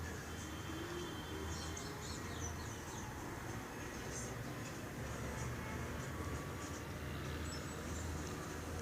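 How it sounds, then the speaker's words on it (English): A bus passing by outside, heard as a steady, fairly distant rumble of engine and road noise that lasts throughout. "That's the bus. Do you hear the bus?"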